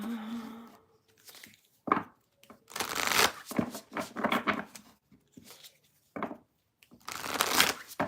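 Tarot cards riffle and shuffle in quick bursts, a brisk papery flutter repeated several times with short pauses between.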